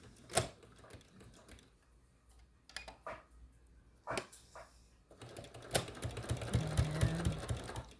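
Sewing machine stitching pieces of a log cabin quilt, starting with a few short bursts of needle clatter and then settling into a steady, faster run near the end, heard up close in a quiet room.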